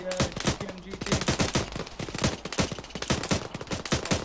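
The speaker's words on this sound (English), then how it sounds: "Sounds like an AK." AK rifle gunfire in a tactical military video game, a dense run of rapid shots and bursts, several weapons overlapping at mid distance, with a voice talking over it.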